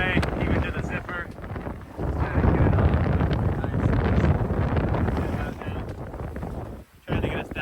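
Strong gusting wind at sea aboard a sailboat with the mainsail stowed, on a passage from Tunisia to Sardinia, a loud broadband roar buffeting the microphone that swells and eases, briefly dropping near the end, under occasional talk.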